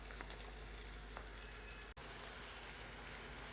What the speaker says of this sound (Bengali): এগুলো একটু হালকা সতে করে নিলাম